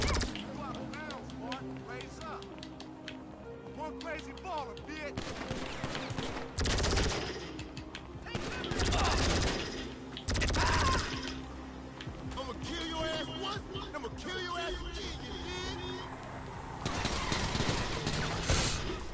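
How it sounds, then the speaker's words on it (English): Repeated gunfire in GTA 5 strikes the player, heard as bursts of rapid shots and louder heavy volleys amid ongoing game noise, with a voice talking throughout. "Oh, bollocks, I got shot. Repeatedly."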